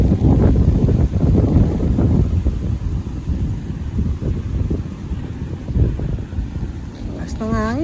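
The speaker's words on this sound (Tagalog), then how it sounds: "Lakas ng hangin eh." Strong wind at a dam buffets the microphone with a constant low rumbling roar, loud and steady from start to finish.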